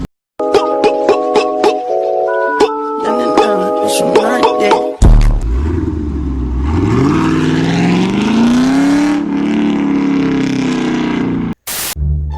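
A loud V8 engine of a Scat Pack muscle car revs up and roars, its pitch climbing steadily, after a short stretch of sharp electronic tones.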